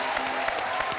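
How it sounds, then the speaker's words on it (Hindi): A television game show studio audience claps, a steady wash of applause filling the brief moment. "तालियां।"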